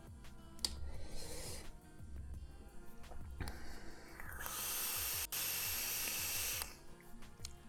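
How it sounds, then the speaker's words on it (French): A Furiosa Eggz Aria e-cigarette gives off a steady, breathy hiss of vapour production, swelling into a long loud rush midway and then cutting off, with no talking. "Une excellente production de vapeur."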